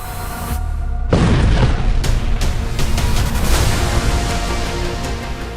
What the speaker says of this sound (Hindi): धमाका नंबर 3, धमाका नंबर 4, धमाका नंबर 5 और धमाका नंबर 6।